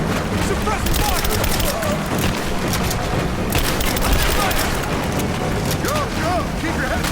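Gunfire from the video game Rise of the Tomb Raider: a dense, continuous fusillade of overlapping shots and booms runs throughout, with shouting voices mixed in.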